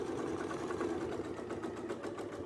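A sewing machine stitching steadily along a Westalee sashing template, a loud, even rapid mechanical whir with a regular needle rhythm and no talking.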